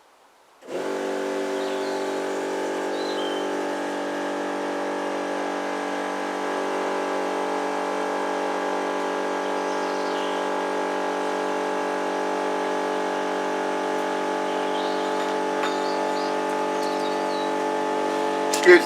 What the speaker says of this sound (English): obviously the compressor running, so we'll just let that build up a head of air